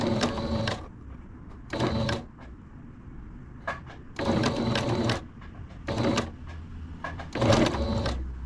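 Sewing machine stitching a buttonhole on a two-piece pant suit, several short bursts of rapid zigzag stitching separated by pauses and small clicks of fabric adjustment, close and moderately loud, no talking.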